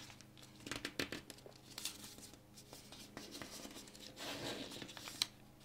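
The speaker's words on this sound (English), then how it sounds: "we're going to take this edge here, fold it back up so it hits this edge" Sheet of paper being folded into a jet-style paper airplane, giving close crinkles, creases and soft rustling in irregular bursts, with a sharper crackle near the end.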